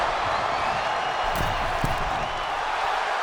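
Crowd noise in the WWE 2K25 wrestling game during a Rhea Ripley match, a steady dense roar of cheering with scattered claps, loud and continuous.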